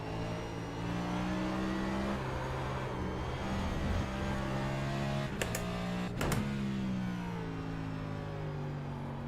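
A race car in the iRacing sim racing game drones steadily at high revs, with two sharp throttle blips on downshifts near the end and engine pitch sliding down across the gears, no talk.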